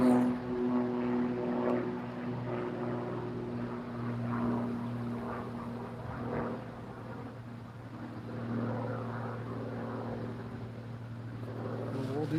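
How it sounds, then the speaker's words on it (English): A loud propeller airplane drones steadily overhead during carp fishing on a windy day, its engine hum continuous and fairly close throughout, with faint wind and occasional distant voices beneath. "Did you guys hear that airplane? That thing was loud."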